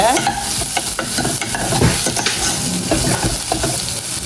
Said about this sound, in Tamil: இங்கால வெங்காயம் பச்சை மிளகாய் கருவேப்பிலை பூடு எல்லாம் வதக்குறேன்